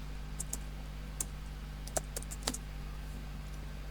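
Sparse keystrokes on a computer keyboard enter a sudo chmod command in a bash shell. The few sharp, close clicks come in small irregular bursts over a low steady hum, with no talk.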